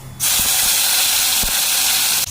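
Tomatoes dropped into hot ghee and oil tempered with cumin and dried chili, erupting into a loud, sustained close hiss and sizzle after a quiet moment, with a couple of brief thumps.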